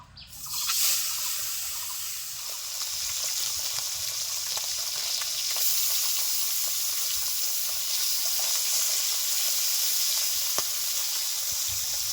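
Small local fish sizzle steadily in a frying pan, a dense, continuous crackling hiss that starts abruptly and holds at an even, close level for the whole stretch, with no voices.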